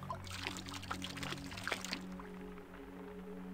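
Water pours from a vessel in the Tomb Raider level editor game, a splashing, trickling stream for about two seconds that fades into a steady low hum of background ambience.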